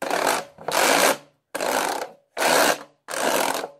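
A washboard played with a rubbing, scraping stroke: five loud raspy bursts of roughly half a second each, separated by short gaps, close up and alone.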